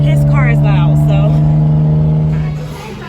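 A loud car engine idles with a steady, deep drone that fills the whole clip and eases off slightly near the end, while voices talk over it.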